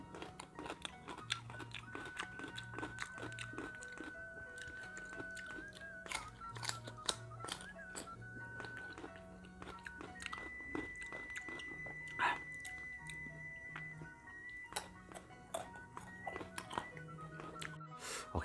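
Mango rujak, a spicy fruit salad, is eaten by hand at midday, with close, quiet crunchy bites and chewing repeating irregularly over a faint background hum and soft clinks.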